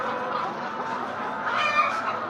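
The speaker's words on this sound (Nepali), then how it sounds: "देसी कुखुरा पानी खाने लाग्यो" Local free-range chickens cluck softly while drinking water on a farm, a low continuous murmur of fowl sounds with a few brighter calls near the end, moderately close, no talk.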